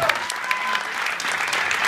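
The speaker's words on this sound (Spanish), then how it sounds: "un fuerte aplauso para Mariu Zipain" A theatre audience at a musical comedy show claps loudly and steadily, a dense wash of applause filling the whole short moment, with a voice faintly heard underneath.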